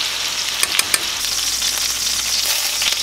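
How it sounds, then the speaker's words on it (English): Bacon grease and butter sizzle steadily in a hot pan, a dense continuous crackle with a few sharper pops near the start and no voices. "I'm gonna put some bacon grease in here."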